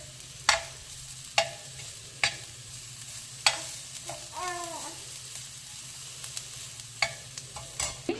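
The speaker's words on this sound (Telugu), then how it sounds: "ఆనియన్స్ అటు ఇటు పక్కకు అనేసి ఇలా వేగాలండి. ఇట్లా ఆయిల్లో పచ్చిదనం ఉండకుండా." Onions fry in oil with garlic and cumin, a soft steady sizzle broken by sharp scrapes of a spoon every second or so, close up and without speech.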